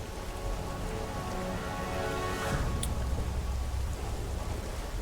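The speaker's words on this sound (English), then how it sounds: "Finally, sailing there through the rain." Steady rain falls on a surface while warships sail through a storm in the Pacific war strategy game Strategic Mind: The Pacific, a dense continuous patter with one brief brighter splash partway through.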